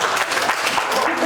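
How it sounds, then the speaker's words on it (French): A brief burst of steady clapping from a group at a quiz game, dense and fairly loud, with a voice faintly underneath. "2 points supplémentaires pour Rosalie qu'on applaudit bien sûr."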